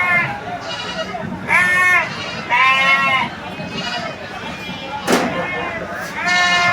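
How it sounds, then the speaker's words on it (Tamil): Sheep and goats bleat at the Red Hills livestock market in Chennai, several loud nearby calls rising and falling in overlapping bursts amid crowd noise, with someone speaking between them. "இது வந்து பார்த்திங்கன்னா சென்னை ரெட்டேரி ஆட்டு சந்தை."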